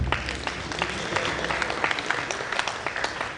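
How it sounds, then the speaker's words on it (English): Audience applause at a prize giving ceremony, a dense steady wash of many hands clapping throughout, fairly close and even in loudness. "Please clap."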